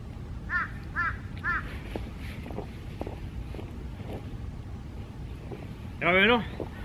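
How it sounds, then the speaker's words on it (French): Several harsh crow caws ring out in short bursts, then a louder cluster of caws near the end, over steady wind rumble and faint background voices, in snowy Seoul. "On entend que les corbeaux autour de nous."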